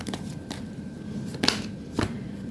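A deck of tarot cards is shuffled close by during a love reading, giving a few short crisp riffles and slaps spaced about half a second apart in a quiet room.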